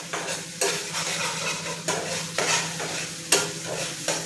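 Green chillies sautéing in hot oil in a pan with turmeric added, a steady sizzle broken by repeated stirring scrapes every second or so, close and continuous, no talking.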